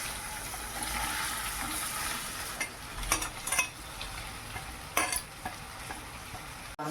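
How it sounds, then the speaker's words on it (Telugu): Onions fry in oil in a kadai, a soft continuous sizzle with a few sharp stirring scrapes and knocks against the pan. "ఆయిల్ వేసుకోవాలి, కడాయిలో ఆనియన్స్ వేసుకోవాలి."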